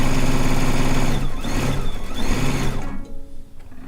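A sewing machine stitches a log cabin quilt, a loud, steady mechanical run with a rhythmic pulse that slows and breaks up near the end as the stitching stops.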